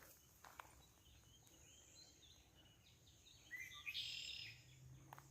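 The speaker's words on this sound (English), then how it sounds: "Little bird staying low in the canopy." A small bird gives a brief burst of high chirping in a quiet outdoor setting, fairly faint, with soft rustling in the background.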